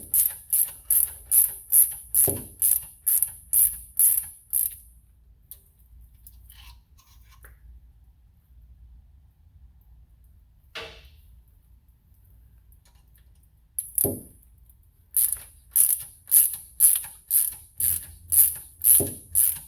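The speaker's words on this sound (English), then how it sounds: "start running your tap in." During a Time-Sert repair of an oil drain plug hole, a hand tap cutting threads gives two runs of rapid, evenly spaced ratcheting clicks, separated by a quiet pause with a few faint knocks.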